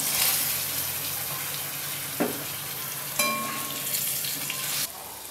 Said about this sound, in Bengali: এবার আমি দিয়ে দিচ্ছি আলু